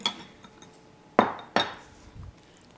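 Egg mixture stirred into Texas sheet cake batter, with a spoon knocking against the mixing bowl in two sharp clinks amid softer scraping, close and alone.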